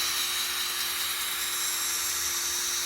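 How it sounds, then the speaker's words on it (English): A Parkside two-gear power drill runs steadily, a constant high whine with a low tonal hum underneath and no talking. "Parkside, because it's got 2 gears. That's why this is a good drill."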